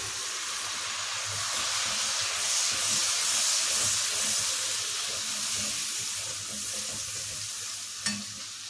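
A steady, loud hiss and sizzle fills the pan as water hits hot spices and kasuri methi, with stirring scrapes throughout and a sharp clink near the end.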